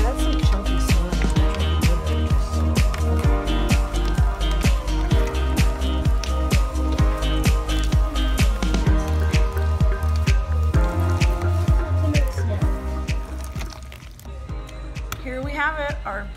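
Chunky slime is squished into a large batch of rainbow glitter slime, producing wet, sticky clicks and squelches. Upbeat music plays loudly over the handling throughout.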